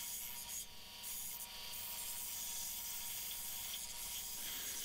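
Rough cutting of the main edges off a wooden gladius sword blank, a steady, continuous rasping saw or rasp noise running close and loud throughout with no talk.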